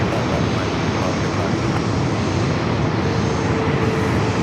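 A corporate jet at LAX airport gives a loud, steady broadband engine roar that fills the whole stretch without a break.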